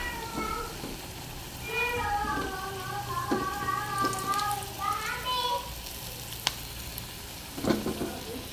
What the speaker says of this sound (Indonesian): aku goreng tempe ya